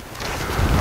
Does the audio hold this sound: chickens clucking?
no